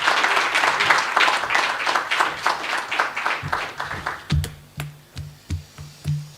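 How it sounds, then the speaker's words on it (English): A hall crowd at a South African union launch breaks into dense applause that thins out into a few scattered, rhythmic claps near the end. "Let's give him another round of applause"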